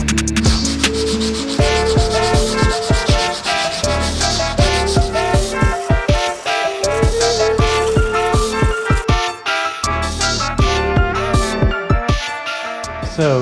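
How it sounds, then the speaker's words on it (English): Hand sanding of Bondo body filler and fiberglass on a car body repair, a loud, steady run of rhythmic back-and-forth rasping strokes with no one speaking. "That's about as much sanding as I'm gonna do on this."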